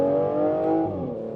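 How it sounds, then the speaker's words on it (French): A front-mounted V12 in an Aston Martin Vanquish 2025 super GT revs in a strong, smooth harmonic roar that holds steady, then dips slightly in pitch as the revs ease off, loud and close with no talk. "Les Super GT avec le moteur à l'avant, gros V12, une puissance immense."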